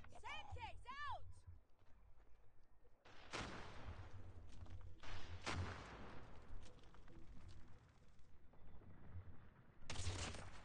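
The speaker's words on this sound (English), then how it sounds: "Semtex out!" A Semtex grenade goes off in the mobile shooter Call of Duty Mobile, a sharp loud blast among several booming bursts of gunfire and explosions, with talk heard between them.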